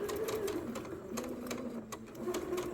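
A sewing machine stitches a quilt top seam, a close steady mechanical whir with a fast needle rhythm that shifts pitch slightly as the speed changes, running alone without talk.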